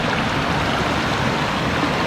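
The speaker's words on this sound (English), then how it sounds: "I think I'm gonna dip my feet in." Cold creek water rushing and splashing steadily around bare feet being dipped in, a dense, close, continuous wash with no voices.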